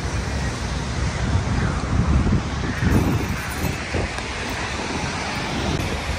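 Surf washing onto a beach in Taipei, a continuous broad rush of breaking waves mixed with gusty wind buffeting the microphone, fairly loud and close with no talk.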